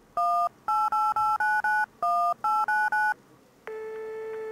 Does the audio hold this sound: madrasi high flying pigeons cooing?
no